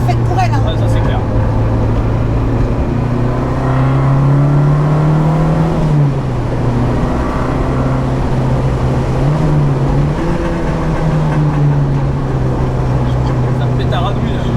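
Renault 5 GT Turbo engine on a country road, a loud continuous droning hum that swells and dips with throttle, heard from inside the car with occasional crackle and voices talking over it.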